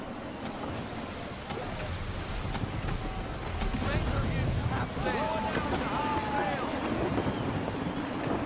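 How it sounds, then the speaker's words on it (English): Gusty wind roars steadily while a sailing ship moves through the water in Assassin's Creed 3, a dense rushing bed with washing waves and a few faint creaking tones over it. "Gusty winds can be difficult to manage."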